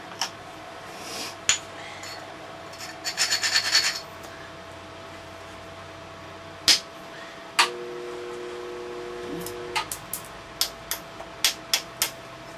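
Knapping a Clovis point from Alibates flint, with scattered sharp clicks and ticks as flakes come off, a quick cluster of scraping taps, then a run of evenly spaced crisp strikes, fairly close over a steady background hum.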